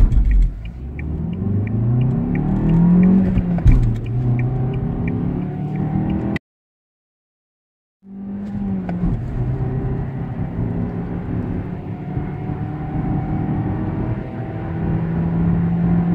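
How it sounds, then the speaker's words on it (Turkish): Steady road noise inside a Fiat Egea Cross 1.4 on the move: a continuous low rumble of engine and tyres on pavement, broken by a short gap of silence partway through, then resuming at the same even level. "bu araçta lastik sesi daha az geliyor"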